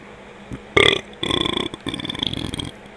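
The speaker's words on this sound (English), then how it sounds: "I think I accidentally just burped right into the mic without trying to" A man's loud, close burp lands right into the microphone, one rough guttural eruption followed by a longer rumbling belch that trails off.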